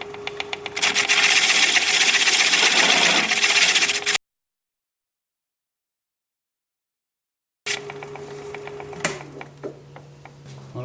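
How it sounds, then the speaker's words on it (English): A non-slip cloth ticks in a rapid, regular rhythm while a four-legged square wooden bowl spins on a lathe at about 450. The sound drops out to silence midway, then returns with the lathe's hum and scattered ticks. "that tick tick you hear is just the non-slip cloth"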